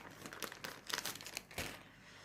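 A small, sturdy plastic sachet crinkles and rustles as it is handled and opened, in irregular close crackles that fade toward the end, with no voices.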